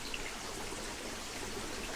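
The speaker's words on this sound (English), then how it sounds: "Then there's the sound of the brook babbling downstream." A woodland brook babbles downstream beneath a large beech tree on an autumn day, a steady soft wash of trickling water, faint and distant with no voices.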